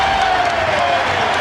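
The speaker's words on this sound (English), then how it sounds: "the crowd is in a frenzy" A packed basketball arena crowd at an NBA playoff game between the Toronto Raptors and Philadelphia 76ers roars loudly and continuously, a dense wash of cheering and applause with no break over the short stretch.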